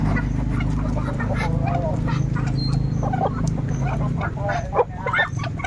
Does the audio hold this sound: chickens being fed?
yes